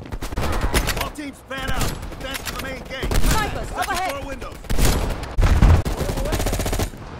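Gunfire from a shootout in the shooter game Call of Duty: Black Ops Cold War: dense bursts of automatic weapons crackle throughout while someone speaks over the shooting.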